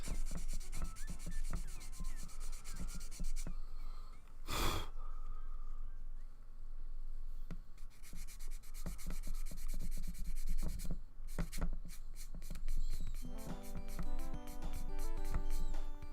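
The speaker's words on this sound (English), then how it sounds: "the area of this file that I'm using at the moment is actually sanding stuff down pretty nicely" Continuous rasping of a file sanding a plastic Gunpla model part back and forth, close up, with a few sharper scratchy strokes along the way.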